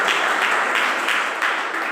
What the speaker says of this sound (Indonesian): Mari kita tepuk tangan bersama-sama